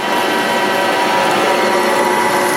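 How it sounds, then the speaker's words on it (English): A loud, steady mechanical whine of drilling on a lathe runs without a break, a continuous grinding hum with no talking. "And I'm going to continue to drill, a little bit at a time."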